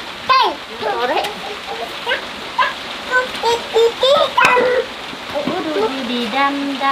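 Heavy rain pours down in a steady hiss at an outdoor wooden house building site, while voices call out and talk over the downpour.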